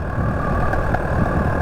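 A 1968 Honda CT90 motorcycle engine idles slightly unevenly, a steady close putter with faint popping, running alone without voices.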